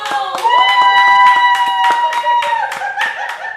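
An audience claps for an Atlanta rapper, a steady run of loud, closely spaced claps under a sustained tonal voice or music, with some laughter mixed in.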